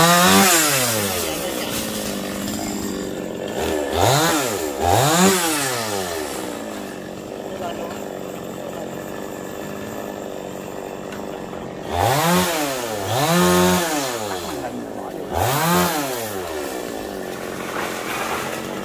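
A chainsaw cuts a fig tree in repeated bursts, revving up loudly with rising and falling pitch between steadier idling stretches, while someone talks intermittently.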